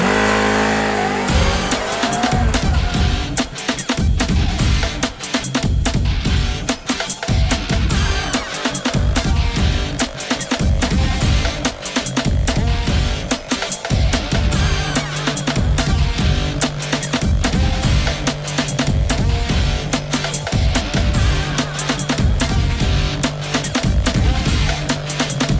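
A Kawasaki Ninja 400 sport motorcycle engine roars loudly and continuously on a test ride, repeatedly revving up and dropping with shifting pitch.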